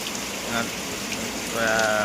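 Heavy rain pouring down in the morning, a dense continuous hiss of drops striking surfaces, loud and close, with a brief thin tonal sound near the end.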